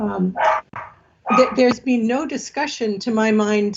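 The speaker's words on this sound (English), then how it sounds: "Pardon my dog." A dog barks and yips in short bursts close to the microphone while someone talks over it during a city council meeting held remotely.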